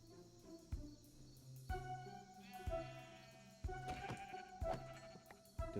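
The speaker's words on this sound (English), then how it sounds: "Oh, sheep." Minecraft sheep bleat in the video game, several short wavering calls spaced about a second apart over sharp impact sounds and game effects, clear and close.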